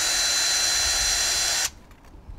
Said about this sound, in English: So should I get my drill ready to go in case we do have to disassemble